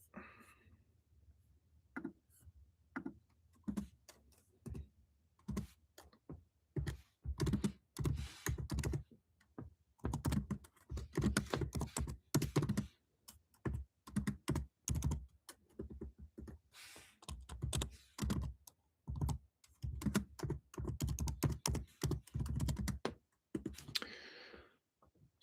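Quiet typing on a computer keyboard, irregular bursts of soft key clicks close by with brief pauses, continuing for a long stretch.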